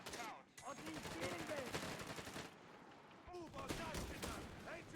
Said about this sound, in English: Oh, that was a second MG.